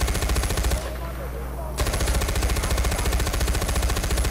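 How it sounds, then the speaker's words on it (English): Rapid machine gun fire in the video game Far Cry 4, a dense continuous stream of loud shots with a brief pause of about a second near the start before the barrage resumes. "I'm shooting 10 million bullets into your face"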